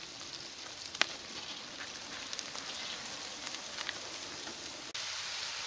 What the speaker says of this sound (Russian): Обжариваем до красноты, немножко пробланшировали.